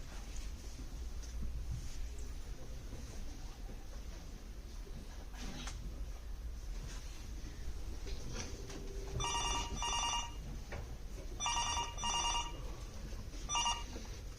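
Telephone bell rings on stage during a live theatre play at a national winter drama festival, sounding in three short bursts of two rings each, fairly loud over a quiet room hum with no talk.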